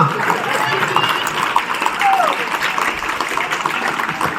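Audience applause at a government school Republic Day program in Kasandi, a broad crowd clapping steadily throughout, fairly loud, with a brief whistle-like tone partway through.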